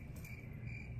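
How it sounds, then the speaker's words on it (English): A steady, high-pitched chorus of crickets chirping continuously, faint and unbroken, with no other sounds. "We need a crickets effect right here."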